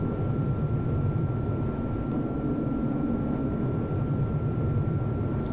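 A Harrier jet docking in the From The Depths building game gives a constant, fairly loud engine drone with a thin steady whine above it. The sound holds level throughout with no voices.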